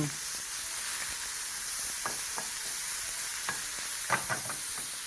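A small amount of mince is tossed and fried in a pan, with a constant bright sizzle running throughout and scattered scraping clicks and taps from the stirring, louder toward the end, with no one talking.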